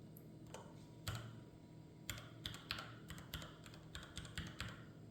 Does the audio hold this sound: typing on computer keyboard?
yes